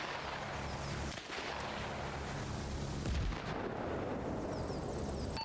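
A frag grenade detonates during a military-style game assault, giving a single deep boom about midway through, with steady gunfire and battle noise around it.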